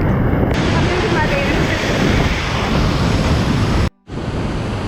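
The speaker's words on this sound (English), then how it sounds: "It's raining so hard." Heavy rain pours near a waterfall in Lombok, Indonesia, a dense continuous roar of falling water close by, with a brief dropout near the end.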